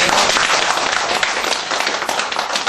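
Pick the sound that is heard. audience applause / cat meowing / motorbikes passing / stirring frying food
audience applause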